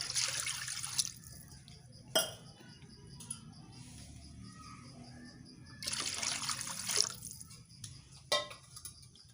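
Water pours and trickles into a cooking pot for zeera pulao, a soft, steady liquid flow with a few louder splashes and drips, heard close with no talking.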